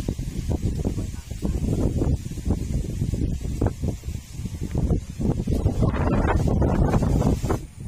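Strong wind buffets the microphone in dense, continuous low rumbling gusts that swell louder toward the end, with brief voices faintly under it.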